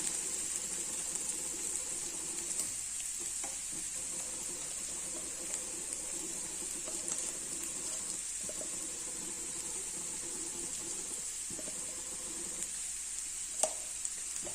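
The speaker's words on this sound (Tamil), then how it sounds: "இரும்பு சட்டி இந்த மாதிரி இதை போட்டுக்கிட்டிங்கன்னா டக்குன்னு உருளைக்கிழங்கு வந்து ஃப்ரை ஆகிடும்" Potatoes fry in an iron pan with a low, steady sizzle and occasional light stirring clicks, heard close and alone.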